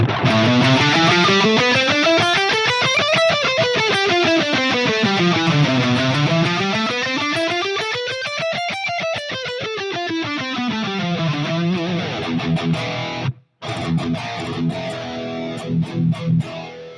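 A distorted electric guitar rips through fast scale runs rising and falling, then after a brief break switches to choppier, punchier rhythm playing.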